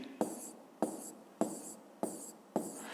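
An equation written by hand in a regular rhythm: five short scratchy strokes of the pen about half a second apart, each a crisp attack that quickly fades, close up in an otherwise quiet room without speech.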